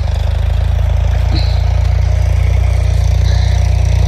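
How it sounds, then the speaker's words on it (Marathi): A tractor engine runs steadily at close range in a sugarcane field where the cane has been cut, a continuous low idling rumble with a faint brief squeak partway through. "इकडं आमच्या रानामध्ये आलेलं आहे ट्रॅक्टर आणि ट्रॅक्टरचं काम चालू आहे"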